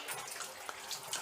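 Water runs steadily from a tap while goat intestine is rinsed beneath it, a close, continuous splashing stream with small spattering bursts over about a second.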